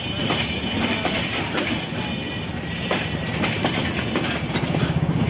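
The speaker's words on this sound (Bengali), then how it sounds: "এক্সপ্রেস ট্রেনটি দেখা যাচ্ছে রাজশাহী রেল স্টেশনের প্ল্যাটফর্মে" An express train moves through the platform at Rajshahi railway station, a steady close rumble with rhythmic clickety-clack of wheels and rattling wagons throughout.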